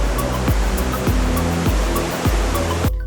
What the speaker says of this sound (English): Watch some of the biggest waves you've ever seen crashing down onto the black beaches.